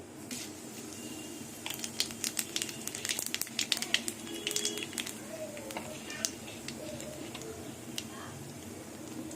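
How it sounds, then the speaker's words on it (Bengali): Dried red chillies and nigella seeds sizzle in hot oil, giving a soft bed of frying with scattered quick crackles and pops, fairly quiet and close. "তেল গরম হয়ে গেছে এবার দুটো শুকনো লঙ্কা আর কালো জিরে ফোড়ন দিয়ে দেবো"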